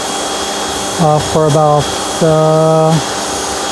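A pressure washer cleaning a rug at home produces a steady, loud hissing spray throughout, with someone talking briefly over it.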